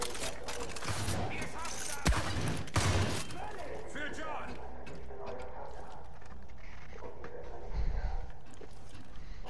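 Bursts of shotgun fire in Far Cry 5 crack out in rapid volleys, loud and close, with voices talking over the action and mechanical clatter between shots.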